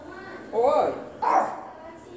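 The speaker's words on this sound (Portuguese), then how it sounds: "O Pepeu tá latindo porque eu tô penteando a Baby." A small dog gives two short, yappy barks close by, spaced about a second apart, with a third starting at the very end.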